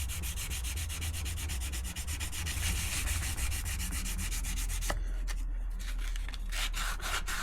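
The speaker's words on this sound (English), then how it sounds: "And obviously we are sanding with the grain." Rhythmic back-and-forth sanding of wood, steady rasping strokes repeating quickly and close by, with a brief pause partway through.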